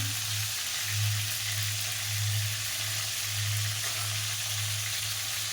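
Eggplant sautés in oil in a pan, giving a steady soft sizzle with a pulsing low rumble, close and continuous, with no voices.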